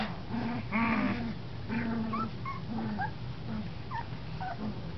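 Podengo dogs whimper and whine in the background, with repeated high yelps and soft growly whines over a steady low rumble.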